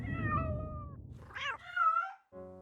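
A cat meows several times with rising and falling drawn-out cries, close and clear against near silence, ending in a short, buzzy mew.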